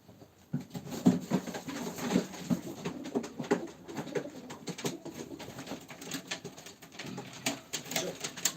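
Pigeons coo softly and repeatedly at a live pigeon auction, low throaty calls scattered across the scene, with faint patter and shuffling in the background.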